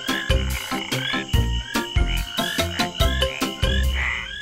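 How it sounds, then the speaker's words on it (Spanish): A chorus of green tree frog croaks repeats in a steady, pulsing rhythm, loud and close, with each call a short throaty burst following the last. "La rana de árbol verde también es conocida como la rana de la lluvia."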